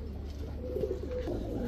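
Pakistani teddy pigeons at a Bangladeshi pigeon seller's stall coo softly in a low, rolling burble, close by and continuous against a steady background hum.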